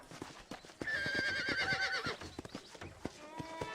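A horse in the Red Dead Redemption game gives a loud whinny over clip-clopping hooves, close and alone, the neigh lasting about a second among steady hoof steps.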